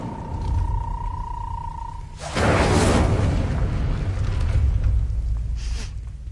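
A fire spell cast in Hogwarts Legacy, heard as a sudden loud whooshing burst that roars for a few seconds after a steady tone, then fades with a brief second flare near the end.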